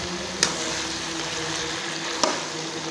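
Homemade ginger powder being stirred into a mixture in a frying pan, a steady soft sizzle throughout with a few brief scraping clicks of the spoon against the pan, close and moderately quiet.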